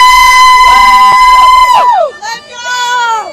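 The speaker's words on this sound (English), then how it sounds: "Y'all want to cheer on any of these other runners" A marathon crowd cheers runners on, loud and close, with sustained shouts and whoops from many voices, some high and childlike, rising and falling across the moment.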